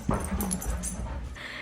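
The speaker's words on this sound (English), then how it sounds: "the dogs are going absolutely nuts right now" Excited dogs at home let out a quick burst of barks, yips and high whimpers, close and loud, followed by a brief whine at the end.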